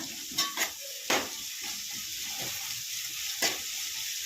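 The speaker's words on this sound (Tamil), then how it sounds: "வரைஞ்சி வச்சுருக்கிற தக்காளி அதையும் சேர்த்துக்கலாம் சேர்த்து வதக்குங்க" Onion and tomato sautéing in a pan for a fish curry, a soft continuous sizzle broken by a few sharp spoon scrapes and clanks against the pan, with no talking.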